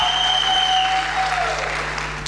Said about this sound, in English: Can we just please give them a round of applause for embodying?